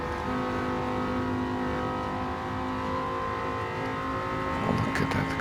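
A race car engine in Gran Turismo 7 holds a steady high drone at speed, loud and close, with a brief rougher burst near the end; faint talk sits underneath.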